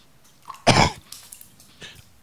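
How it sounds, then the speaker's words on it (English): A single loud, harsh cough up close, followed by a few faint breathy sounds. "How long have you had that cough?"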